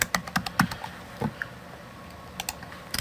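Computer keyboard typing code, light clicking keystrokes in short irregular bursts, close and quiet, with pauses between groups of key presses and no voices.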